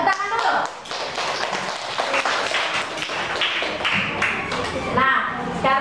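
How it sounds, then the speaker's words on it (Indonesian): A class of students claps together in a classroom, with uneven, overlapping hand claps and taps mixed with children's voices talking over them. "Ya, tepuk tangan dulu."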